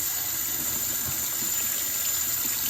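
Water runs steadily from a tap to rinse a makeup brush in a sink, a continuous close hiss with faint splashing underneath and no talking.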